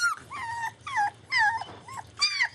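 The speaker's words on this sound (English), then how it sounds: "we all can hear Assassin crying in the background" A German Shepherd puppy whines and whimpers in a series of high, drawn-out cries, close by, with short pauses between each cry.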